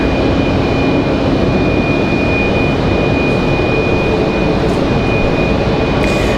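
An Airbus A220 jet climbing out after takeoff from Raleigh-Durham International Airport, a loud, steady broadband engine roar with a high whine running through it, filling the whole stretch without pause.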